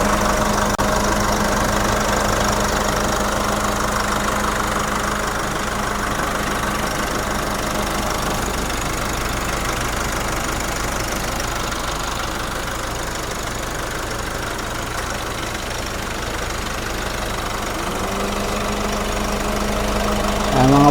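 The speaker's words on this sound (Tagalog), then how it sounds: "yan yung makina natin" A Nissan Terra SUV engine idles steadily nearby, a constant low rumble with a faint knocking hum that barely changes throughout.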